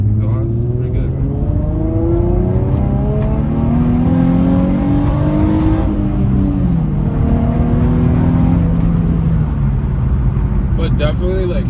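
An Infiniti G35 with an aftermarket intake and stock exhaust pulls hard on a night mountain road, heard from inside. Loud, rising engine drones climb repeatedly through the gears, with brief dips between pulls.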